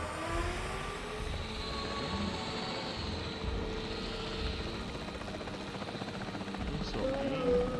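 A capture team helicopter in the video game Jurassic World Evolution 3 drones with a continuous rotor and engine roar, steady and fairly loud throughout, mixed with game ambience.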